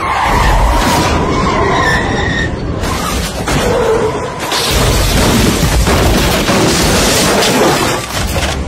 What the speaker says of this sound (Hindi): अचानक पता नहीं कहां से एक ट्रक डिसबैलेंस होकर आई